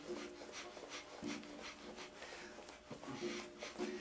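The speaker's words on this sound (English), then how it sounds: "Very rapid breathing." Rapid breath of fire yoga breathing done while running in place in a group class, quick rhythmic panting bursts repeating steadily throughout, fairly faint with a roomy background.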